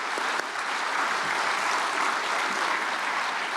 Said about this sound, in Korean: 나오실 때 큰 박수로 환영합니다.